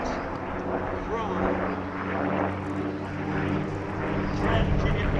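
A P-51D Mustang propeller aircraft performs at the MCAS Cherry Point air show, its piston engine droning steadily at a distance under a public-address voice talking.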